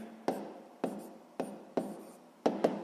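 Several short scratchy strokes of a pen writing out a sixth-grade math solution, a brisk burst about every half second with quiet gaps between, close and fairly soft.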